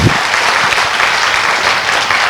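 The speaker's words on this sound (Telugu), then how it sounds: "గట్టిగా చప్పట్లు కొడతాం ఆ మాస్టర్కి." An audience at a rally event claps loudly, a dense sustained burst of applause from many hands that holds steady with no pause.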